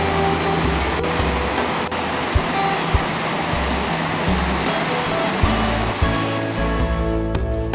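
Rushing water fills the scene at a jungle creek crossing, a loud continuous wash with occasional splashes and knocks as someone wades through.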